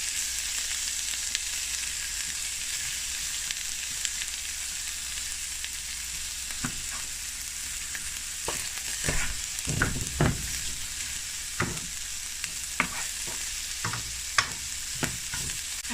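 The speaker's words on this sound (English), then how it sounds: "I have here some ginger, garlic, scallion, and onion. All right, and we're just gonna saute this a little." Ginger, garlic, scallion and onion sauteing in a pan, a steady close sizzle with scattered stirring clatters and scrapes growing busier toward the end, no voices.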